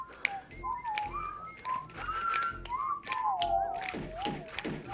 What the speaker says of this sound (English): This is an Impressive whistling.